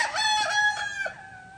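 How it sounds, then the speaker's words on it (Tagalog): An asil rooster, a young cock in a breeding setup, crows once clearly and close by, its call rising and then trailing off over a quiet background. "At ito naman yung tandang na anak niya."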